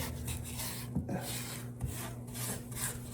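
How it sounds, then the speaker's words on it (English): Spatula scraping the side of a mixing bowl of pound cake batter, a faint rubbing scrape with a few soft knocks, close by and without speech. "scrape the side of your bowl"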